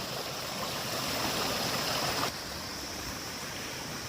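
Broadband rushing of a river flowing nearby at Godavari Park, steady and fairly loud with no breaks, dropping slightly in level partway through, with no talking.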